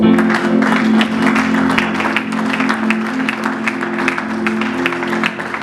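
A church congregation claps in a steady rhythm. The claps sound over sustained voices or music that fill the space throughout.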